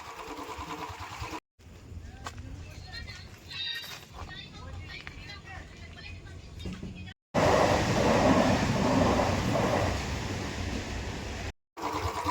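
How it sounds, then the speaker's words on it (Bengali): A train passing near a small roadside railway station. Voices and lighter noise come first, then a louder rushing rumble rises and slowly fades. "কোথাকার ট্রেনটা যাচ্ছে বলতে হবে না"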